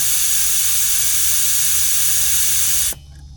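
A jump pack's built-in air compressor on a boat inflates toward 75 PSI with a loud, steady hiss and hum that cuts off abruptly near the end.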